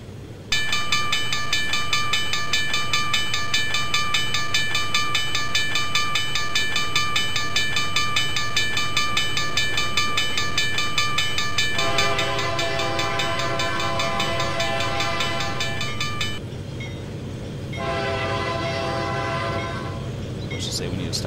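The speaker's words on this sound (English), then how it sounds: "Train is coming into view." A model train on the Carrabassett Valley Railroad layout runs along its track with a steady rumble. A long tonal horn or whistle sounds over it, then shifts pitch and stops and restarts near the end.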